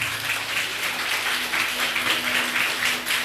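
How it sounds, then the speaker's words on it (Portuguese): Evangelical congregation clapping for Jesus during a sermon, fairly loud continuous applause with a slight pulsing rhythm and a low hum beneath. "Aplauda Jesus por isso então, crente."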